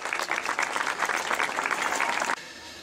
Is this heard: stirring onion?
no